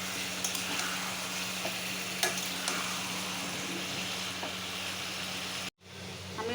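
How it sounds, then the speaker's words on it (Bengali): Chicken pieces fry in plain oil for chicken kosha, heard as a quiet, even sizzle with a low steady hum underneath and a few faint clicks, then a brief drop to silence near the end. "এখন আমি খালি তেলের মধ্যেই মাংসটা কষিয়ে নিচ্ছি,"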